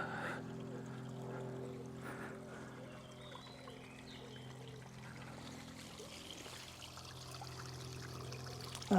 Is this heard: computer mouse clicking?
no